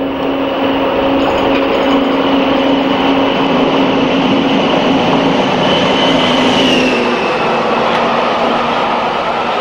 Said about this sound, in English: D9000 beats up the Great Eastern Main Line at Ingatestone during its second mainline career in 1997